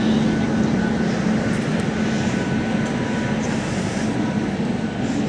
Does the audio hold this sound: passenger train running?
yes